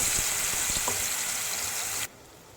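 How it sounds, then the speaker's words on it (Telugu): Masala paste for a mutton curry with tender tamarind leaves fries in a pan over medium flame, giving a steady close sizzle with a few stirring clicks before cutting off abruptly near the end. "మీడియం ఫ్లేమ్లో పెట్టుకొని గోల్డెన్ బ్రౌన్ కలర్ వచ్చే వరకు మసాలాని మంచిగా వేపుకోండి"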